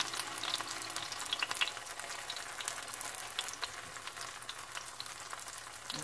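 Corn tortilla dipped in red sauce frying in a hot pan, a steady close sizzle with faint crackles throughout and no talking.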